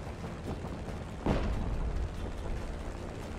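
An explosion in the open-world action game Just Cause 3 gives a sudden rumbling blast over steady game noise, then a dull roar fades back to the background.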